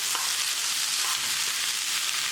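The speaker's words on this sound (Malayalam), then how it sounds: "അരി നന്നായിട്ട് വിട്ട് വരുന്നവരെ വറുത്തെടുക്കാം." Washed, drained rice roasts in hot oil in a pan for an alfaham mandi, giving a steady, close sizzle with faint stirring scrapes throughout.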